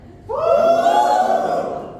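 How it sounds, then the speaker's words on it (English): Participants in a meeting raise a loud, sustained collective shout, a voiced crowd cheer rising abruptly and holding for over a second before trailing off. "Let me hear it cheer, guys."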